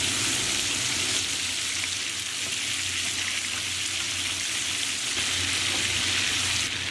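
Chicken pieces sizzle steadily in a hot pan for Hungarian chicken paprikash, a dense, even crackle of frying fat with no pauses.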